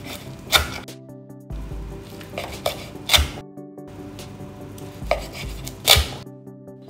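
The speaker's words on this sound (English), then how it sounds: "Cut skin side down." A knife chops through cooked teriyaki chicken laid skin side down, giving three firm, separate cuts a few seconds apart over soft background music.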